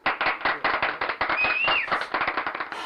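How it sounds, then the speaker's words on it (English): Rapid, close hand clapping from one person, sharp evenly spaced claps in a steady run with a brief faint whistle-like tone midway. "Here, I'll give you the applause."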